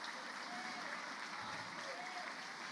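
A church congregation applauds during a service, giving a steady, faint wash of clapping that sounds distant and continuous.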